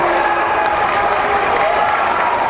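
A crowd claps and cheers continuously in a basketball gym during a boys' high school Class B final, a dense, loud wash of applause that fills the whole stretch.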